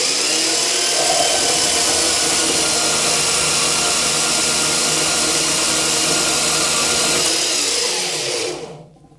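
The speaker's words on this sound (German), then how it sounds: "Jetzt sägen wir noch mal ein Stück ab und jetzt schaut euch mal die Maschine an." A cheap discount-store metal band saw cuts through a piece of metal, a steady loud motor whine and blade drone close to the microphone that runs evenly, then winds down and stops at the end.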